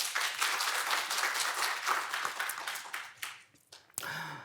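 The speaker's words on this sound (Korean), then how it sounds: "큰 박수 한번 부탁드립니다." Applause for trainees at a public-sector instructional contest, a crowd clapping briskly for about three seconds before it thins out and fades, followed by a brief sharp sound and a voice beginning to speak.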